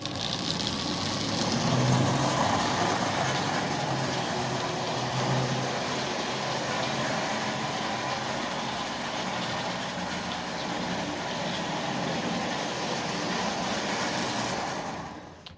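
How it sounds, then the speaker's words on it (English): A Marx toy train locomotive motor runs steadily forward while pulling five cars, giving off a continuous close, loud mechanical whir and rattle that holds without pause, with no speech. "This motor by itself is pulling 1, 2, 3, 4, 5 cars."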